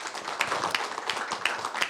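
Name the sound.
applause for a speaker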